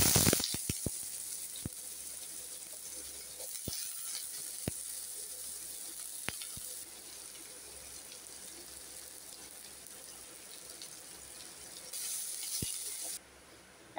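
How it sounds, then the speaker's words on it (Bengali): Diced potatoes frying in oil in a pan for a vegetarian Bengali dish, a continuous close hiss and sizzle with occasional sharp pops and clicks, louder at the start and briefly again near the end. "তেল দিলাম, এখন আলুটাকে ভাজবো।"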